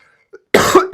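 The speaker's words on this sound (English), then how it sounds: "I've got a cough at the moment." A single harsh cough bursts out close and loud after near silence, followed by the start of a second one.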